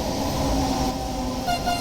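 Electric locomotive, a Bombardier Traxx BR 185.2, running in the Train Sim World 3 game: a steady loud rumble and hum of traction and wheels, continuous throughout with faint tonal whines.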